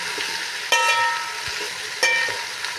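Small, thin homemade okra frying in ghee, giving a steady bright sizzle throughout, with two sharper crackling bursts as it is stirred.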